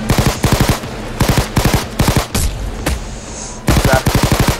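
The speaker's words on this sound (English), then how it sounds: "I need to equip my Tommy gun" A Tommy gun firing in the video game Payday 2, loud and close, in rapid bursts of rattling automatic shots separated by short pauses and a brief mechanical clatter.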